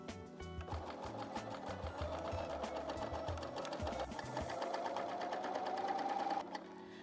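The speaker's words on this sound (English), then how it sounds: "And sew your hem." A coverstitch machine fitted with a hemmer attachment sews a hem in a continuous, moderately loud whirr that gradually speeds up and then stops abruptly.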